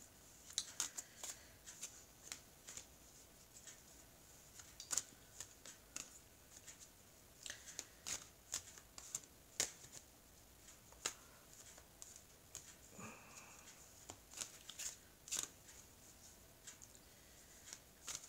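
Oracle cards being shuffled by hand make quiet, crisp riffles and rapid papery flicks in irregular bursts, close but soft, over a near-silent background with no talking.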